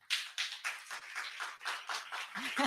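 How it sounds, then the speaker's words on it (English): A small audience at a policy gathering in Durban claps softly and unevenly for themselves, a steady patter of hands lasting a few seconds with no voices over it. "Please give a round of applause to yourselves."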